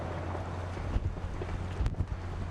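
Wind gusts across the deck of a catamaran, a low steady buffeting with a couple of sharper bursts against the microphone, no voices.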